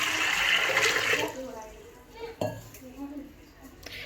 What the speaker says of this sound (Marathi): कुकरमध्ये टाकलं आहे आपण ह्याला पाणी.